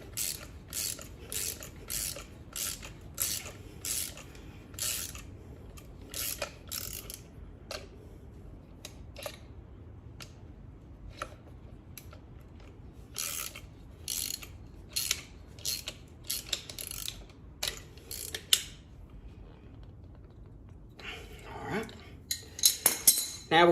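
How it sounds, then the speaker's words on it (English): Adjustable pliers tighten the rear shock nut on a 2018 Ford Edge Sport, giving crisp, regular ratcheting clicks in repeated short bursts close by. The last few seconds turn into busier, denser mechanical clatter. "We're going to tighten this down. And we're going to use this pair of adjustable pliers."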